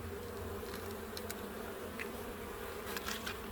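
Honey bees buzz steadily around an open beehive during an inspection, a continuous close droning hum with occasional louder passes near the microphone, and no talking.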